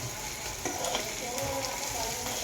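Egg fry being mixed in a hot pan, a dense continuous sizzle with scraping strokes of a utensil at close range.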